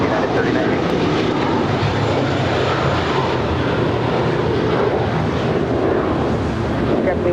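JetBlue airliner departing a Los Angeles International Airport runway, a loud continuous jet engine roar with wind buffeting on the microphone, steady throughout, with a voice talking over it.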